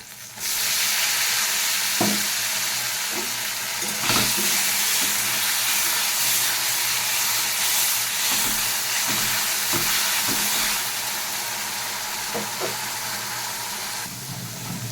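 Loud, steady sizzling and frying of onion paste in a hot pan with oil, potato strips and black cumin, close up, with occasional soft stirring knocks throughout.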